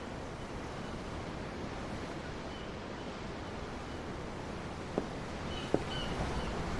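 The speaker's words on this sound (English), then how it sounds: "The waves. They help me think." Ocean surf washes steadily in Tales of Arise, a continuous broad rush of waves and wind heard up close, with two faint brief clicks near the end and no one talking.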